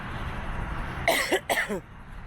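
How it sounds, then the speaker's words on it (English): Two quick bursts of coughing close by, the second following shortly after the first, over a low background hum. "Sorry about the coughing."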